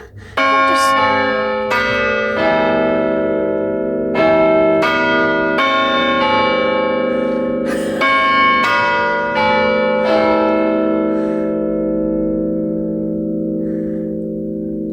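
Church bells ring out loud and close, a series of about nine clanging strikes spaced a second or two apart, each leaving a long, rich hum that rings on and fades slowly after the last stroke.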